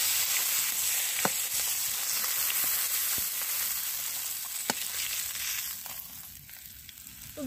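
Mackerel pieces fry in hot oil in a pan, a steady soft sizzle with occasional clicks and scrapes of a utensil, fading slightly toward the end.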